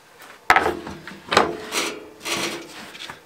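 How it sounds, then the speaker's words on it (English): A wooden circle-cutting jig for bowl blanks is set onto a bandsaw table: a sharp knock, then several dry wooden scrapes and rubs as it slides into place, close and fairly loud. "I'm going to put the jig on here and set it up and show you how it works."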